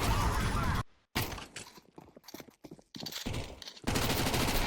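Rapid bursts of rifle fire in Counter-Strike 2, loud and close, broken by brief silences and a scatter of sharper single shots, with heavy sustained firing at the start and end.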